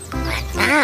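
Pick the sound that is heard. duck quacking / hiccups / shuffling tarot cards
duck quacking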